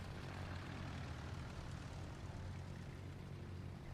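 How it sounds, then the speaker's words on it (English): Propeller aircraft engines from German planes in the naval combat game World of Warships drone steadily and loudly, a continuous low rumbling hum that holds without break, with no voices. "These German planes are weird."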